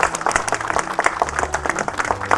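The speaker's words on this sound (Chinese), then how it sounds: "大家鼓掌鼓励一下" A small audience in a restaurant applauds in a quick, fairly close run of claps, brisk and uneven, with a low murmur beneath.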